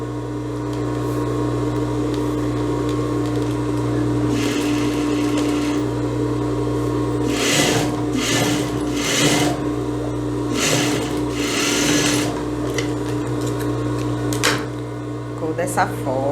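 Sewing machine stitching darts on a eyelet-lace blouse, a steady motor hum with bursts of rapid needle clatter in the middle and later, close and fairly loud, with no talking over it.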